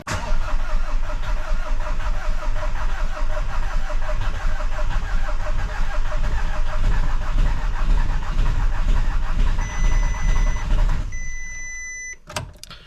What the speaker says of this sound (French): on va voir si la GoGolf démarre